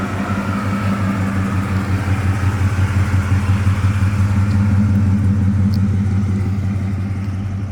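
A Destroyer Grey Dodge Charger with a Hemi V8 rumbles loud and close in a steady, deep idle that swells slightly midway, with no voices over it.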